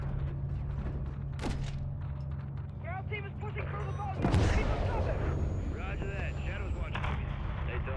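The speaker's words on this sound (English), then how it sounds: "Come on, load the missile. Load the missile. Let her rip, bud." A gunship missile launch and gunfire in Call of Duty Modern Warfare 3, with a sharp loud blast midway, mechanical clanks and a rumbling low drone, while voices talk over it.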